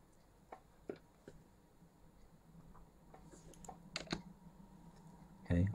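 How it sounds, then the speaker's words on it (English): A computer keyboard spacebar is pressed to scroll, giving a few sparse, faint clicks and taps close by, with a quiet bump near the end. "scrolling down with the spacebar"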